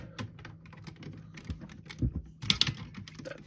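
Plastic parts of a Transformers Combiner Wars Superion figure being folded and pegged: a quick series of small clicks and taps close by, with a louder cluster of snaps near the end.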